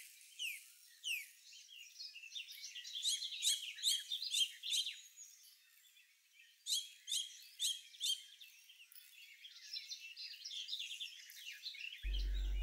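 Baby birds chirping at the nest in repeated bursts of high, thin calls, fairly faint and with no other sounds around them.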